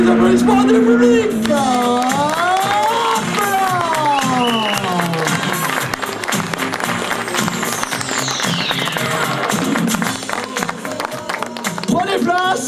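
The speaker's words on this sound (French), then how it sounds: "et les applaudissements du public." Crowd at a 2017 rally podium ceremony for the T1B two-wheel-drive class, with applause and cheering blended into loud continuous noise under an announcer's voice and music.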